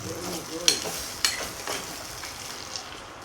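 Fresh turmeric vegetable dish cooking in a pan, a soft steady sizzle with a few sharp stirring clinks and scrapes early on, close and moderately quiet.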